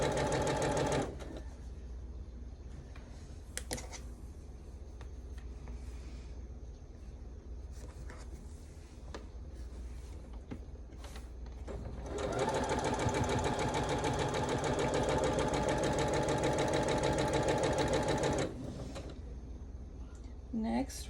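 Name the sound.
sewing machine stitching quilt pieces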